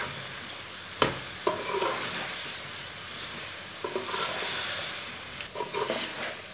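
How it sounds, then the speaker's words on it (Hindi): Half a kilo of cauliflower fries in a pan over medium heat, a steady sizzling hiss broken by a few sharp stirring knocks and scrapes of the spatula. "गोभी डाल के इसे 3 मिनट तक भून लेना। इसे मीडियम आंच पर 3 मिनट तक भून लेना।"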